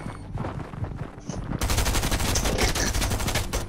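Rapid bursts of gunfire from the Fortnite video game rattle out in quick, dense volleys, growing louder and more continuous partway through.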